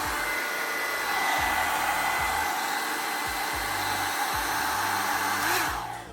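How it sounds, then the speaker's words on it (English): Revlon blow dry brush running on its first setting, a steady loud hair-dryer whoosh of rushing air with a constant motor hum, close and continuous for several seconds before winding down slightly at the end. "It's the same sort of loudness sound as a normal hairdryer."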